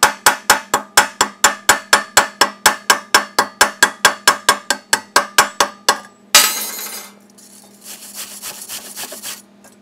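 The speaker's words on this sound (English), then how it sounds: "This flux, we're going to let it cool off a second, but it's a little harder to chip off." A chipping hammer knocks flux slag off a fresh weld, a rapid, regular series of close, sharp taps that stops partway, followed by a burst of scraping and softer rattling.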